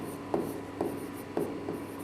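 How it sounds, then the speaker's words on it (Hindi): Chalk or marker writing on a classroom board during a ninth-grade science lesson: a few short scratchy strokes, moderately faint and evenly spaced, with no talking in the moment. "तो हम इसमें यहाँ पर लिखेंगे"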